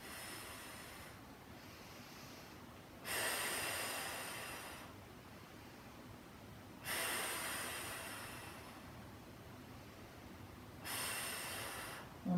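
Slow, deep breaths during a barre stretching workout at home, with long airy inhales and exhales in a regular rhythm, close and fairly soft, with no talking.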